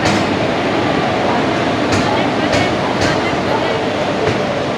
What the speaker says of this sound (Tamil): நம்ம ட்ரெயின் வந்து பாருங்க,